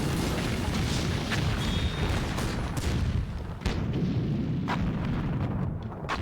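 A deep, rumbling explosion rolls out as a sound effect in a Tomb Raider audiobook scene, with heavy booming low end, crackling debris and a sharp secondary blast midway, fading toward the end.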